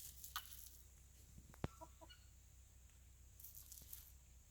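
Chickens having a dust bath give a few soft, scattered clucks in a quiet outdoor setting, faint and intermittent against low background hiss.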